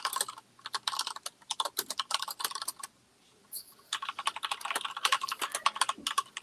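Rapid computer keyboard typing in bursts of clicking keys during a game of Heckin' Hounds, close and fairly quiet, with a brief pause midway before the clatter resumes.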